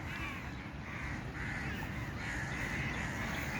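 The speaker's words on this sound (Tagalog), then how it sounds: "Ingay nila. Ayan pa o. Hala, nagdatingan na sila." A flock of crows caws continuously, many raspy calls overlapping and rising in bursts over a constant low rumble.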